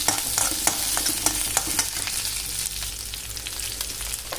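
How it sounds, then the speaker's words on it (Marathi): Chillies frying in oil in a pan over low gas, for a traditional Maharashtrian garlic-chilli thecha: steady broadband sizzle with scattered sharp crackles and pops, fairly loud and continuous, no voices. "आता ह्याच्यात मिरची टाकून घेऊया व गॅस कमी करायचा पूर्ण, कारण की मिरची उडण्याची शक्यता असते।"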